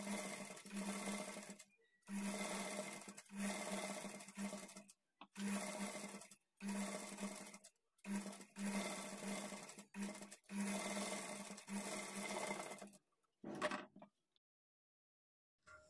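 Several bursts of close, loud sewing machine stitching run along blouse piping, each a rapid whirring run of two seconds or so, separated by short pauses and ending with one brief final burst.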